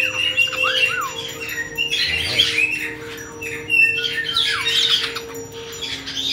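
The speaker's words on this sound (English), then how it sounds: "Got Spiky Bird on my leg" A pet bird perched on a person's shoulder and leg squawks and chirps in repeated harsh bursts, loud and close, against a quiet indoor hum.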